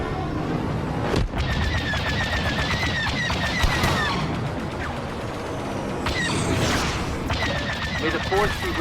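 Starfighter blaster fire during a Star Wars Battlefront II space dogfight over Ryloth, rapid repeated laser shots and booms over a dense roar of engines, with radio chatter voices mixed in.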